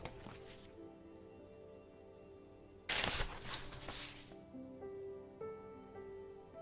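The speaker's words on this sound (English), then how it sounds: "I know it's picking up the page turning noise" Quiet papery rustles and soft flips near the mic, with one louder burst of crinkling and riffling partway through, then faint page handling.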